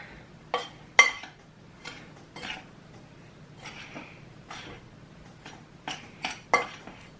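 Sugar is stirred in a bowl with a spoon, producing a series of irregular clinks and scrapes, close and fairly quiet, with pauses between strokes.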